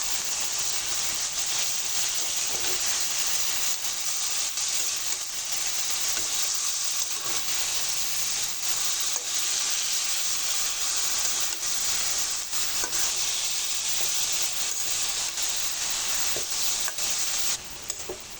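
Bitter gourd and small-cut potato pieces frying lightly in a pan, a steady bright sizzle with faint stirring scrapes throughout, fairly quiet and close, no voices.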